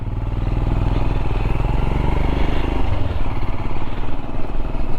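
Himalayan motorcycle engine running steadily while riding on a cool morning: a loud, close, continuous throbbing drone with no rev changes or talking.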